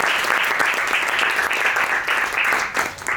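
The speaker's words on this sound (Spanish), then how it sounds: "un aplauso para Marisol, que va a ser la primera" Audience applause fills a school faculty hall during a talk-debate with retirees, a dense, steady wash of many hands clapping that continues for the whole moment without any voices over it.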